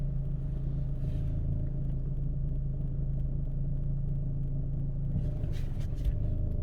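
A 2013 Dodge Avenger's engine idles in a low, steady rumble while reversing into a spot. It stays close and continuous throughout, and a few faint higher clicks come near the end.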